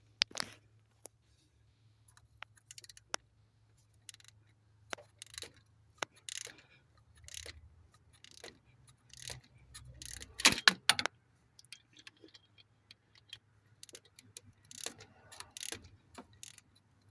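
Exhaust manifold bolts are worked loose on a 2007 Chevy Silverado, giving faint, sparse metallic clicks and ratcheting rattles in scattered clusters over a low hum, with no talking.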